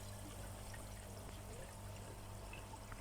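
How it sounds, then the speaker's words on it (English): Water from a pond pump pours and trickles steadily around a koi pond, a continuous, moderately quiet splashing flow with a low steady hum beneath it. "the old EA pump is pushing that water around better than the Helia was"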